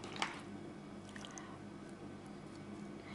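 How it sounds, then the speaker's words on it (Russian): Pieces of marinated white fish laid by hand onto a layer of boiled potatoes for a baked casserole: one soft, wet squish near the start, then a few faint moist pats over a quiet, steady background hum, with no talking. "Теперь я кладу слой рыбки"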